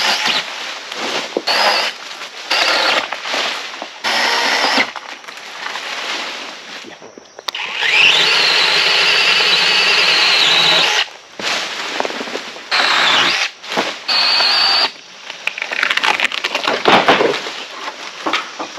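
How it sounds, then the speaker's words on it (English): A TROOZY cordless 21V pole saw cuts through a 4-inch tree limb in loud, whining bursts that start and stop repeatedly, ending with crackling and snapping wood as the limb gives way. "Now that right there was a 4-inch limb, at least 4 inches, and it cut it off"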